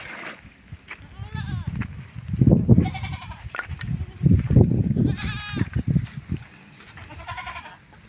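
Several goats bleat in uneven bursts, some close and loud, others fainter, with a few quiet voices in the background.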